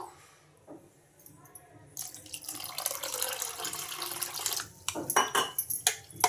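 Water runs and splashes into a bowl of instant dosa batter made without urad dal, with a few clinks of utensils, close and fairly loud after a quieter start, no talking.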